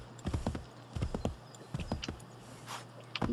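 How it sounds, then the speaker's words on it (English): Horse hooves clip-clop at a slow, uneven walking pace in Assassin's Creed III, with a steady low hum from the game underneath. "this horse is so slow"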